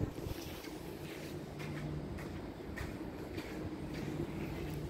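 A freight train rolls past at a rail line in Trudering, a steady, faint rumble and rattle of wagons that holds even throughout, with no talk over it.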